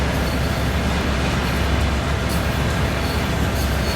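Freight train of container cars rolling past in Train Sim World 4 on the Horseshoe Curve route, a constant loud rumble of wheels and cars with steady rail noise throughout.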